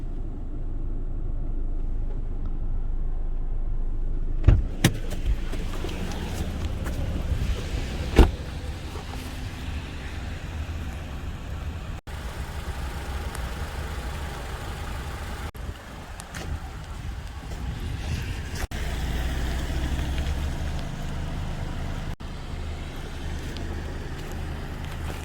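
2013 Honda CR-V idling in park, a steady low rumble heard from inside the cabin with a couple of small clunks and faint interior shifts.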